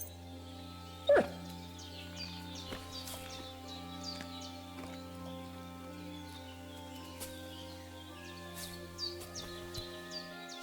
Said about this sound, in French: C'est mon chien-chien, ça, hein?